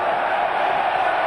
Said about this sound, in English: To an enormous cheer from the crowd,